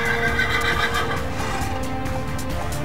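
Horses neigh and whinny repeatedly in Minecraft over a steady background, with faint hoof clip-clops; no talking.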